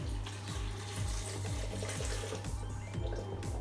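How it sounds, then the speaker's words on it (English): Water pours steadily from a tap or jug over raw cashews in a bowl, a continuous, fairly loud splashing rush with faint rhythmic knocks underneath and no talking. "Add enough water to cover the cashews."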